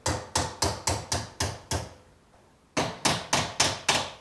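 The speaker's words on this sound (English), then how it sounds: "Then a little tap with a hammer." Hammer blows on a seized track rod end on a Land Rover Defender, a rapid series of sharp, loud metallic taps, a short pause, then another quick run of strikes.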